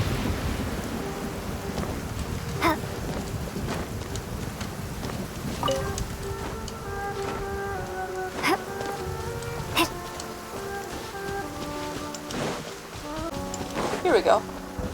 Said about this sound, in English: Oh, great. Thunder and lightning. The best combinations.